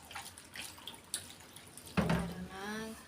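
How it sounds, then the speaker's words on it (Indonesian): Water poured from a gallon jug splashes and trickles over chopped papaya and tempeh being washed in a kitchen, a short close pour with a brief gurgle. "Saya nyucinya pakai air galon teman-teman,"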